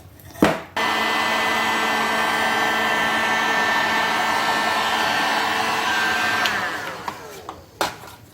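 A hot air blower heating a pliable part for a DIY river tube power motor, a loud steady whooshing drone switching on abruptly, running evenly for several seconds, then winding down with a couple of clunks at the end.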